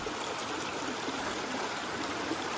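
A stream flows and trickles steadily and close by on the Hope Kiwi tramp in New Zealand. The water rushes as an even, continuous wash with no one talking.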